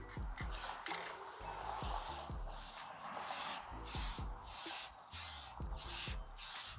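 Spray can applying light coats of paint to a car headlight, several short hissing bursts separated by brief pauses, fairly close and moderate in level.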